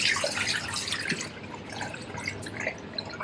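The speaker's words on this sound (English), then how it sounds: "A little bit of water, give it a good shake around." Rice is swirled and shaken in a bowl of water to rinse off its starch, giving a close, continuous wet sloshing and splashing with soft drips throughout.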